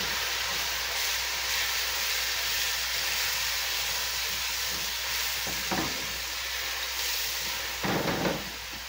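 Minced garlic sizzling in a hot pan with a steady loud hiss of frying, as a couple tablespoons are stirred in, with a few scraping stir sounds near the end.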